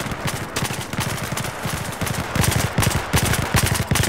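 Rapid automatic gunfire rattles in Battlefield 4, loud and close, with fast regular shots in continuous bursts that grow heavier partway through, no speech.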